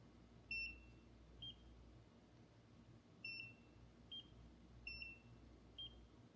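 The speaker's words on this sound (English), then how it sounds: "we turn it on, has 5 different settings, and then gives you a little beep." A Nira skincare laser device gives short electronic beeps, a clear pair repeating about every one to two seconds, each a high tone followed by a softer one, faint and close against a quiet low hum.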